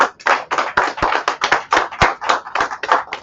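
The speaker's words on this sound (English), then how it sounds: "So let's clap and let's have a great meeting together." Audience applause at a Toastmasters meeting: a few people clapping together in quick, irregular bursts, close and fairly loud, with no talking.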